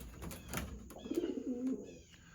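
Pet birds coo softly in an aviary, a short low warbling coo rising in the middle among faint rustles and chirps, fairly quiet and close.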